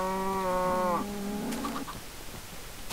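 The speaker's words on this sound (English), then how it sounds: "Are you the only cow?" A Minecraft cow gives a long, loud moo that trails off, followed by fainter game sounds and scattered clicks.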